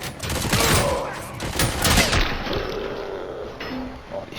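Heavy rolling gunfire from Robocop Rogue City, dense bursts and booming blasts crowding together loudly, with some speech mixed in.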